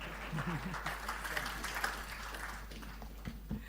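An audience at a Kenya Power event gives soft, scattered applause, many hands clapping faintly over a low hum while a voice murmurs underneath.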